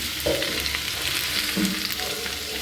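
Pieces of black pomfret fish fry in a pan with a steady, loud, close sizzle and occasional stirring clinks, no voices.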